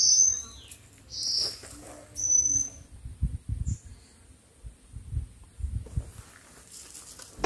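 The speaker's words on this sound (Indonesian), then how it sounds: "Saya penasaran dengan bunyi burung-burung hutan yang bernyanyi nyaring setiap saya beristirahat." Forest birds sing on Mount Slamet, with several bright, high whistled calls coming in short bursts early on, then fainter chirps amid low rustling and footsteps-like thumps nearby.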